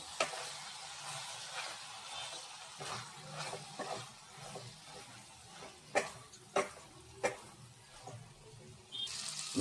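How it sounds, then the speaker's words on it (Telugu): Water is poured into a pan of broad beans and tomato curry, giving a soft, low hiss and gentle sizzle with a few light clinks toward the end, heard quietly and close. "మనం ఈ చిక్కుడుగాయ ఉడకడానికి అయితే వాటర్ని అయితే యాడ్ చేసుకోవాలి"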